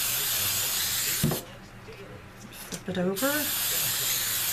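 Hairspray hisses in two short bursts onto a ribbon bow, bright and close, with someone talking before and between the sprays.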